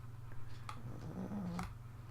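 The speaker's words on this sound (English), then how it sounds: "that's my dog snoring." A dog snores nearby in a quiet indoor room, with soft low rumbling breaths repeating through a steady hum, faint and continuous under no talk.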